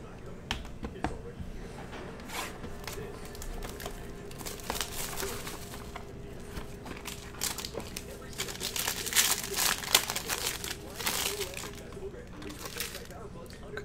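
A 2020 Topps Inception baseball card pack ripped open: crinkling, tearing foil wrapper and card handling close up, with a person talking throughout.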